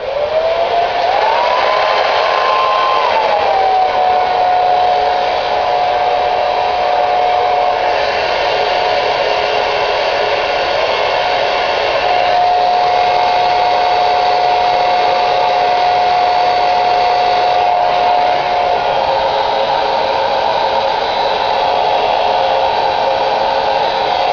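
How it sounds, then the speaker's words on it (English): A hair dryer blows hair up from the roots, a loud, close, continuous whooshing whine with a steady motor tone that shifts slightly in pitch as the airflow changes, running without pause and with no voices. "make sure you're blow drying it up"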